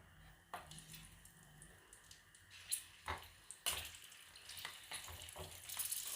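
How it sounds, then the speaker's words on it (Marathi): Green chillies dropped one by one into a pan of hot oil, faint sizzling and spitting with a few sharper pops and crackles as each piece hits, quiet and close. "तेल चांगलं तापलं की त्यात एक एक करून मिरची ॲड करायची आहे"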